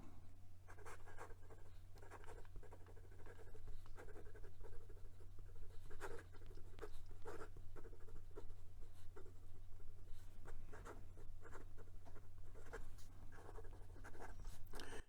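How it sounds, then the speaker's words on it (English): A Moonman C3 fountain pen with a fine nib scratches quickly across paper in close, busy strokes and short taps, continuous for the whole stretch over a low steady hum. "And some quick writing."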